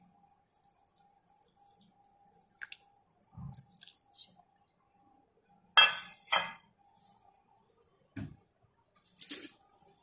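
Turmeric pickle being stirred in a bowl with lemon juice: a few scattered clinks and scraping knocks of a spoon against the bowl, quiet and intermittent with pauses between them.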